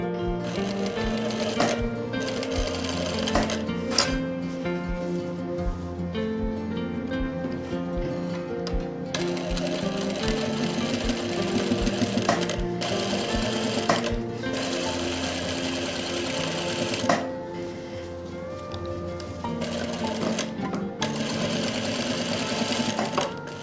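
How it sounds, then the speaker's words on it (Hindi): A sewing machine stitches a zip into the back of a kurti, a continuous close rapid mechanical chatter at steady loudness with brief pauses and restarts throughout. "इसको मैं मैच करके अब नीचे से ही सिलाई लगानी स्टार्ट करूँगा।"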